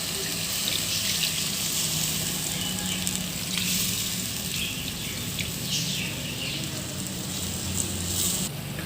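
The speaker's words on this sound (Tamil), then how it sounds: "புளி தண்ணி ஊற்றி நல்லா வந்து கலந்து விட்டுக்கணும்." Tamarind water poured into a sizzling fish gravy in a clay pot, a steady, close hiss of frying and splashing liquid that runs without a break from start to finish.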